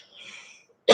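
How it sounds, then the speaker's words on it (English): One person gives a single short, sharp cough at the end, close and loud after a faint, quiet stretch. "if you hear me coughing, it's not that I got a cold, it's just part of my breathing."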